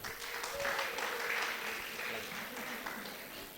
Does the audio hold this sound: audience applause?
yes